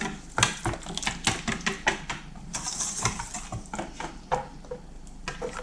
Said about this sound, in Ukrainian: Все гарненько вимішую.